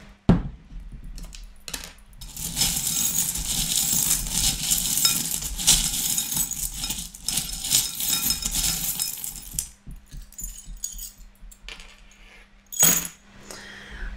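Divination charms handled during a fortune-telling reading, clinking and jingling almost continuously at close range, with a brief lull and then a sharp cluster of clinks near the end.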